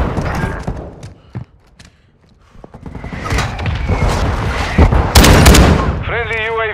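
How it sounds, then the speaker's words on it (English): Mortar strike explosions in Call of Duty: Modern Warfare II, with loud booms and bursts of gunfire clustering near the end amid other battle noise and in-game voices. "Hostile mortar strike incoming."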